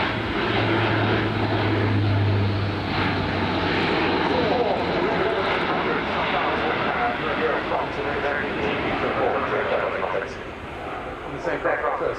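A Luftwaffe Airbus A400M propeller transport flies a display at the RIAT 2025 air show, its engines giving a loud, continuous roaring drone as a commentator talks over it.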